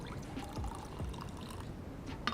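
Water poured into psyllium for vegan naan dough, a soft, fairly faint trickle lasting a couple of seconds with a few small splashes near the end.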